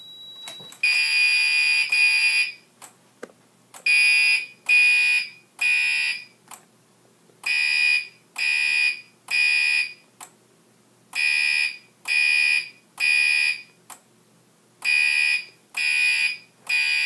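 A fire alarm panel in general alarm sends out loud, shrill electronic tones in repeating bursts, each group of three short blasts followed by a brief pause, continuing steadily throughout.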